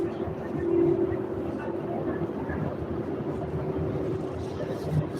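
An Amtrak train rumbles at the Houston train station beneath an interstate, giving a low, steady drone with a sustained tonal hum, fairly close and continuous.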